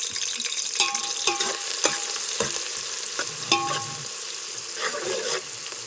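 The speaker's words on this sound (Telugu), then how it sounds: "ఉల్లిపాయలు మిర్చి వేసేస్తున్నానండి" Onions and chillies fry for pulao with a steady sizzle, while a spoon scrapes and clinks against the pan several times in irregular strokes. The sound is close and there is no talking.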